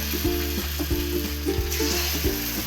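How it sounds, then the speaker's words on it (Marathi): Dahi vada lentil fritters sizzle steadily in hot oil, a continuous dense frying crackle with soft stirring or dropping sounds, close and alone with no talk. "तर आता आपण वडे तळायला घेऊया।"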